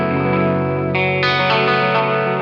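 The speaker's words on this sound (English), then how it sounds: "we're going to go to the mag delay, which is going to be maybe like a echo rec type of delay" Eastwood Black Box mag delay guitar pedal set to a tape-like, modulated echo, sustained chords ringing with repeating delay tails, loud and alone with no talking.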